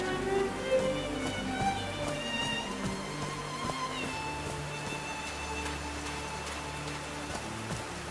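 Rain falls in the Call of the Sea video game, a continuous patter of drops with scattered sharper ticks alongside a soft tonal ambient background, steady in level from start to end.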